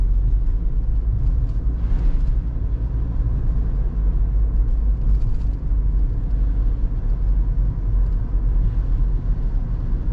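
Interior drone of a car driving through downtown Raleigh, a loud, steady low rumble of engine and road noise with occasional faint passing swells; no talking.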